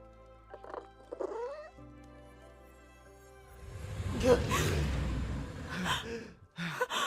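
Cat meowing in the Minecraft video game: a couple of short, thin mews come early, then a louder, rushing, breathy stretch takes over for the rest of the clip.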